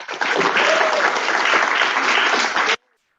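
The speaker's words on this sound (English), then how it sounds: "Cheer once more for Treja." Loud, steady applause with cheering from a church congregation fills the room for under three seconds, then stops abruptly into silence.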